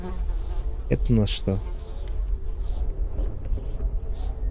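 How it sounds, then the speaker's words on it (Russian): Flies buzzing inside a box in the horror game 9 Childs Street, a steady insect drone running the whole time, with a brief spoken question near the start. "Коробка с мухами."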